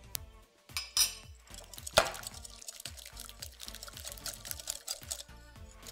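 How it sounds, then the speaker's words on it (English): A whisk beats a mascarpone dessert mixture with rum, pineapple and vanilla in a bowl, giving quick, rhythmic scraping and tapping strokes that are fairly quiet, close and steady, with a few louder knocks near the start. "Okay, let's get the whisk at the job now."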